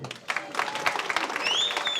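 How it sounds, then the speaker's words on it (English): Audience applause for the son of one of the Three Stooges, a short burst of clapping that swells toward the end with some faint voices mixed in. "Applause for the son of Moe, Mr. Paul Howard."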